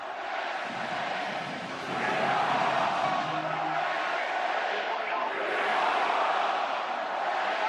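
A large, roaring stadium crowd fills a college football game between Oregon and Penn State, a dense, steady wall of cheering and noise that swells louder partway through.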